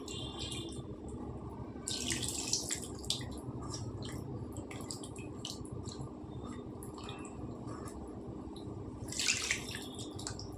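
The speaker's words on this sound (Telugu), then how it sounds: "నేను గ్లాస్ వాటర్ వేసానండి" A glass of water poured into a Godavari-style small fish (mettalla) curry produces faint, steady trickling and dripping, with a couple of brighter splashy spurts over a quiet kitchen background and no talk.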